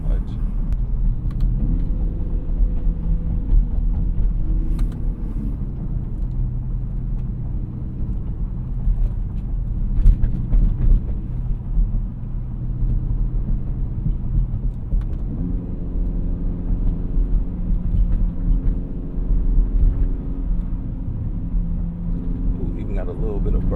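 BMW X5 M driven in manual mode, its engine giving a low continuous rumble and burble with rising and falling revs through gear changes, heard from inside the cabin under a steady background roar.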